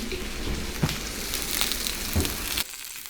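Salmon fillets sear in oil on a Blackstone E-Series electric griddle, giving a steady close crackling sizzle with a few sharper pops, then dropping off abruptly near the end; no one speaks.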